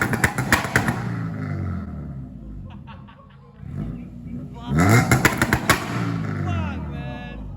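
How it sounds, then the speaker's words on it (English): A loud Honda car engine revs hard at a Malaysian university car meet, with sharp repeated bursts, a brief quieter lull, then another strong roaring run, close to the microphone. "This car is loud as shit."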